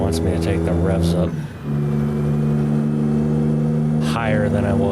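A Ruda 389 Glider truck in American Truck Simulator holds a loud, steady engine drone with a brief dip and recovery in revs, while someone talks over it.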